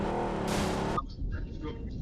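A car engine in the video game BGMI: a loud, harmonic motor drone for about a second that brightens briefly, then cuts off and leaves faint, scattered game noises.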